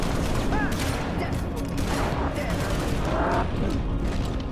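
Gunfire and booming impacts during a Halo: Reach firefight against Hunters in the Sword Base level, with dense bursts of shots and blasts filling the scene, loud and continuous.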